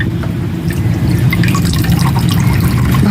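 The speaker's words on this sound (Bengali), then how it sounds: "তরমুজটাকে ভালো করে আমি ধুয়ে নেব" A whole watermelon is rinsed under running water, giving a steady, close splashing and trickling wash that carries on without a break.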